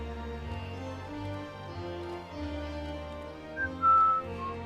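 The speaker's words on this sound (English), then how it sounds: "why are you whistling in my ear?" A person whistles a soft, wavering tune close into a microphone during a game stream, with a sharper, louder high note near the end over a steady background of tones.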